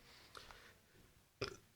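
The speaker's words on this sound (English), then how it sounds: "I didn't mean to burp" A person lets out a short, low burp close to the recorder, quiet at first with a softer rumble before a sharper final burst, in an otherwise quiet indoor setting.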